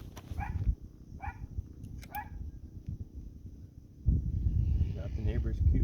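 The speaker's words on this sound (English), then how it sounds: "Got the neighbor's cute little dog over there contributing." A neighbor's small dog barking with several short yips off in the distance, heard over a steady low rumble of background noise that swells toward the end.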